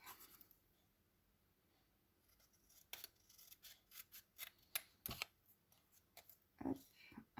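Scissors snip repeatedly through paper as small ATS art cards with a penguin theme are cut out, a series of close, crisp cuts, sparse at first and then quicker and louder toward the end, with no talking.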